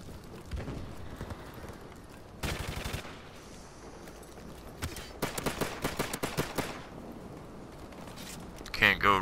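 USP pistol fire in a shooter video game, heard as several bursts of rapid, sharp gunshots spread through the clip, with a louder flurry of shots toward the middle.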